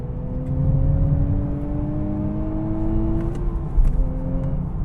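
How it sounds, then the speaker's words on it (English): A car engine rising in pitch as it accelerates, its induction note strengthening toward the upper revs, steady and close with a brief bump near the end. "it's got this nice induction note, especially at the upper RPM ranges"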